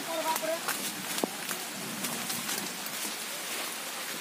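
Rain falling on a hillside, a light patter with scattered drops and faint scuffs of movement, quiet and steady, while a voice talks in the background.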